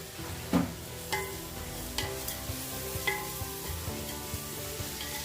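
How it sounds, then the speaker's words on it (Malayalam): Onions sauté with rock salt in a pan for chicken kuruma, giving a constant even sizzle with a few soft stirring taps and scrapes, close and unaccompanied. "ഉള്ളി പെട്ടെന്ന് വഴറ്റി വരാനായിട്ട് നമുക്ക് അതിലോട്ട് കുറച്ച് കല്ലുപ്പ് ഇട്ട് കൊടുക്കാം."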